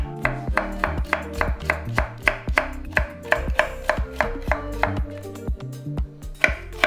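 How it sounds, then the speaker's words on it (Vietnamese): Knife chopping carrots into thin strips on a cutting board, a steady run of close, crisp, evenly spaced chops with no talking. "Cà rốt thì mình sẽ cắt sợi nhỏ"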